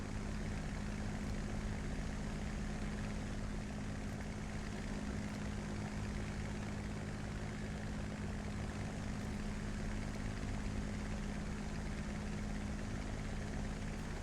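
Propeller aircraft engine drone from the War Thunder video game, a steady, even hum of a plane flying at a distance, constant throughout with no talking.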